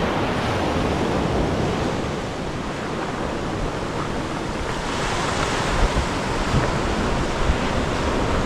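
Sea waves wash steadily onto a stony shore at Amkun beach in Rangat, Andaman, a continuous loud surf with wind noise and no voices.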